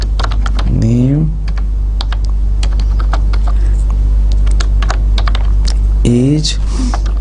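Loud, rapid keystrokes on a computer keyboard typing C printf code for a console database program, clattering steadily over a constant low hum, with someone talking briefly at the start and near the end.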